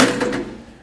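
Lippert SolidStep manual fold-down steps on a 2018 Forest River Rockwood RV fold with a single sharp metallic clunk that rings briefly and fades, close and alone.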